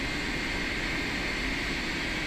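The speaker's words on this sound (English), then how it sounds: "listen to those engines rattling in the wind" PMDG 747-400 jet engines in a flight simulator game produce a steady, loud, unbroken roar with a windy hiss, holding level the whole time, with no talk over it.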